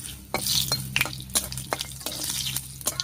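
Whole cumin, dry red chili and a bay leaf hitting hot mustard oil, sharp crackling sizzle with repeated scraping stirs of a spatula against the pan, close and fairly loud.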